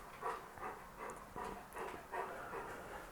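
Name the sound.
dog whimpering and barking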